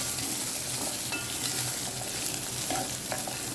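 Coconut lightly frying in a pan while being stirred, a steady close sizzle with frequent scraping stir sounds.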